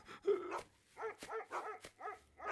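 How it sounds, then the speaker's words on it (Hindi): Dogs bark repeatedly in quick, evenly spaced bursts, with a few higher yips mixed in, fairly close and clear. "काफी देर से स्कॉट डॉग वहां भौंक रहे हैं"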